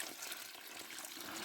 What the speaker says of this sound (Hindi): थोड़ा सा इसको अब धीरे धीरे करके हम इसमें पानी डाल देते हैं